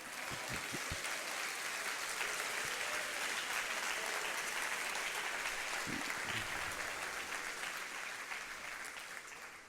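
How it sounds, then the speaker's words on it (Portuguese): A church congregation applauds during a sermon, a quiet, distant-sounding wash of many hands clapping together that carries on evenly for several seconds before fading slightly toward the end. "Então aplaude o Senhor e celebra o seu nome."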